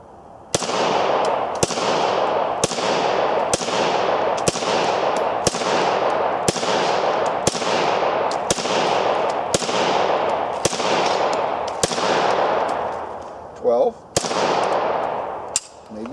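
Reising gun fired outdoors in semi-automatic mode, about twelve loud, sharp reports at a steady pace of roughly one per second, each cracking close by and trailing a brief echo.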